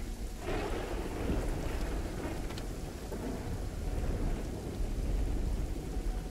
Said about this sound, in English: I'm just standing here in the rain.